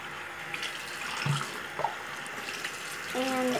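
Cold tap water runs into a kitchen sink during a rinse, a steady close hiss of flowing water with brief clinks and a faint voice in the background.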